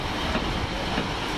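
Train arriving at a platform at Crewe station, a steady rolling rumble of wheels and carriages, close and continuous for a brief moment.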